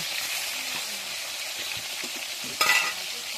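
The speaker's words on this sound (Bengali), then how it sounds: "কড়াই বসিয়ে তেল দিয়ে তেল গরম হয়ে গেছে, মাছগুলো এক একে ছেড়ে দিচ্ছি" Large fish sizzle as they are slid into hot oil in a wok, a continuous bright frying hiss with a sharp louder burst near the end as another piece hits the oil.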